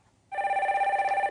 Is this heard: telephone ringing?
yes